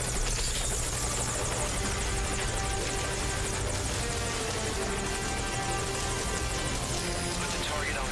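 Steady, loud helicopter rotor and engine drone from the Metal Gear Solid video game, continuous and close, with faint voice chatter mixed in.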